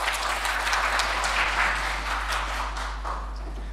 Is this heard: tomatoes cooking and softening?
no